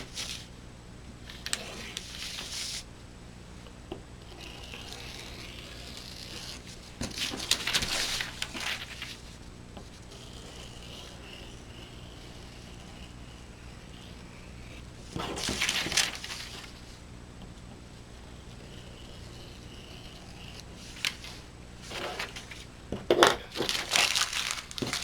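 Scissors cutting out paper quilt templates for a Quiltworx foundation-pieced project, heard as several separate bursts of crisp paper snipping and crinkling with quiet pauses between them, close by and with no talk.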